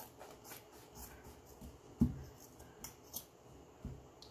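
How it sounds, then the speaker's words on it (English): Fabric scissors cut cloth during a tin can fall centerpiece craft, giving a few quiet, scattered snips with one sharper click near the middle. No one talks. "fabric scissors."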